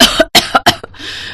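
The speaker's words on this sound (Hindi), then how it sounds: "तभी खांसते हुए उसकी माँ ने उससे कहा," A woman coughs several times in quick, harsh bursts, close and loud, followed by a short raspy breath.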